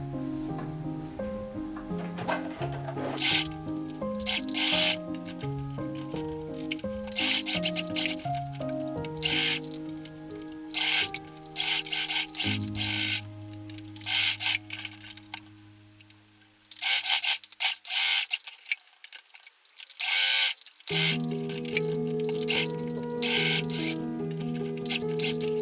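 A sewing machine sews fabric for a homemade Christmas gift mask, running close and steadily in long stitching bursts broken by brief pauses and a quiet gap before it resumes, with no talk.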